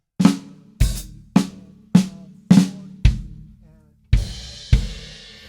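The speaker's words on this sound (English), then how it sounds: "What I'll do is I'll play the fill between my snare drum, my hi-hat, and my bass drum." Flamacue drum fill split across snare drum, hi-hat and bass drum, a series of sharp, evenly spaced close hits followed by two washier cymbal-edged strikes at the end.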